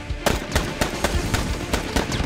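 Gunshots as a sound effect in a dramatized Korean story about a pistol fight with Japanese forces, a rapid burst of about eight sharp, loud cracks in an irregular rhythm.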